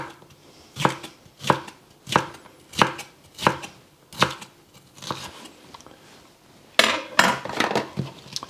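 A knife chops through red pepper on a cutting board in about eight crisp, evenly spaced strokes that land close and distinct, followed by a quicker burst of cuts near the end, with no voices.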